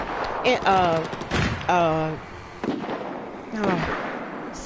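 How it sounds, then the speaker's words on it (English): Explosive bursts of mortar fire and other weapons in a Battlefield 4 Rush clan match, several sharp booms scattered across the moment, with someone talking over them throughout. "He's getting that mortar going, so he can try to get rid of some of those bodies"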